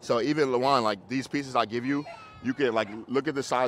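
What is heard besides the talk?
No distinct noise like a dog, phone or traffic.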